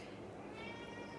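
A pet cat lets out a soft, faint meow, brief and close, with no talk over it.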